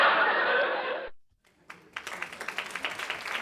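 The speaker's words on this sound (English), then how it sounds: "let's give them a round of applause" At a live safety event, a loud burst of noise cuts off, and after a short silence an audience breaks into applause that builds into steady, rhythmic clapping.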